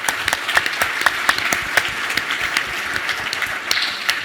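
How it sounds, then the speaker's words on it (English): An audience applauds a presenter at a space startup pitch competition, a steady wash of many hands with distinct individual claps standing out, moderately loud and fairly close. "Give him a round of applause."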